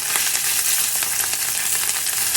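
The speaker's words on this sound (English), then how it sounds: "Once you get the rice in the skillet, go ahead and flatten it out into an even layer." Rice pressed into an even layer in a hot skillet fries with a steady, dense sizzle and crackle that stays constant throughout, with no voices.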